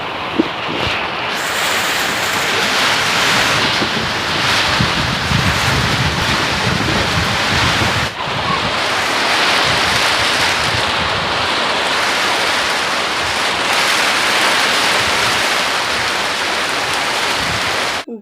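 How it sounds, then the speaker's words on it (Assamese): A heavy storm of rain and wind, a loud continuous roar and rush of wind-driven rain that stays steady and close throughout, with a brief dip midway. "এনেকুৱা ধুমুহা বৰষুণ দিলে জানেনে গাইজ"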